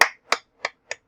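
Four sharp hand claps spaced evenly about a third of a second apart, close and fairly loud, each fading slightly, with no talking.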